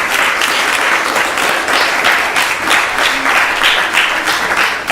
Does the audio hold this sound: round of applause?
yes